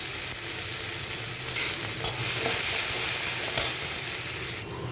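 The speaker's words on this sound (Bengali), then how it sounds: "শুকনো লঙ্কা, কারি পাতার সর্ষে ফোড়ন দিলাম" Dried chillies, curry leaves and mustard seeds sizzle steadily in hot oil for a Bengali chire upma, a constant crackling hiss broken by a few sharp pops and spoon scrapes.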